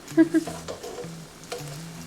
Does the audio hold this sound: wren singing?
no